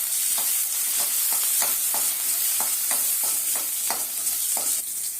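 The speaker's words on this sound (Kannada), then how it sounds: "ಒಂದು ಗಡ್ಡೆ ಬೆಳ್ಳುಳ್ಳಿ ಇದನ್ನ ಚೆನ್ನಾಗಿ ಫ್ರೈ ಮಾಡ್ತಾ ಇದ್ದೀನಿ" Small onions and a whole bulb of garlic fry in a pan for garlic rasam, a steady loud sizzle broken by repeated scraping stirs at an irregular rhythm, close up with no voices.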